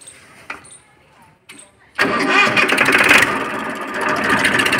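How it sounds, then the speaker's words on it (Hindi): A 2005 Massey Ferguson 1035 DI tractor's diesel engine cranks and catches, settling into a loud, heavy, steady running roar close by after a couple of quiet seconds with brief clicks. "अभी ट्रैक्टर की स्टार्टिंग दिखवाते हैं,"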